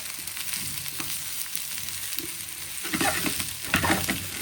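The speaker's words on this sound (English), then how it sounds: "start cooking well in the pan, I'm just continually flipping the pan just so that nothing sticks" Ingredients fry in a pan for bruschetta, a steady loud sizzle broken by scraping and rattling bursts as the pan is repeatedly flipped, with no talking.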